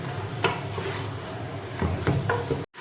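Chicken seasoned with salt frying in a pan for a dhaba-style Lahori desi chicken gravy, a steady close sizzle broken by a few sharp scrapes and clinks of stirring.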